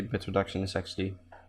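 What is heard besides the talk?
None of the usual background noises is heard.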